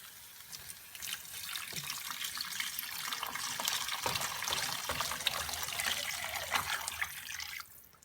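Water pours steadily into a pan of turkey gravy for several seconds, a continuous splashing, trickling flow heard up close with no talking, ending abruptly.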